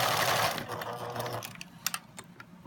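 A sewing machine stitching fabric, its fast mechanical whir running steadily before slowing into a few scattered clicks and taps near the end.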